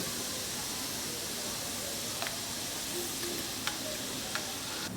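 Ground paste of two kinds of mustard seed with poppy seed sizzles and hisses steadily in a pan over fried tomato, a constant frying sound with a few faint clicks of stirring.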